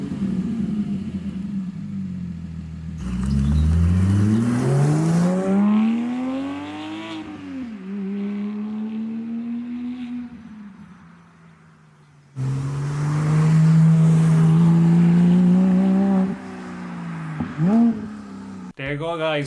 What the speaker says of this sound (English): So here's a quick clip of his new exhaust on the Porsche Cayman Gt4.